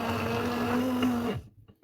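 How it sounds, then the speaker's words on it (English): A mini blender whirs steadily as it mixes a homemade vegan moisturizer of oils, a loud continuous motor drone lasting over a second before cutting off abruptly into near silence. "This is basically like sort of like a mini blender thing"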